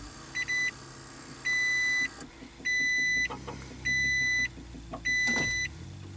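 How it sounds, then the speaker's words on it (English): A 2009 Toyota Prius is switched on inside the cabin, sounding a series of five regular electronic beeps at even intervals, with a faint click and quiet interior hum between them. "maybe if I turn the car on"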